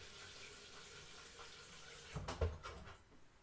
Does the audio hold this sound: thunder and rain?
no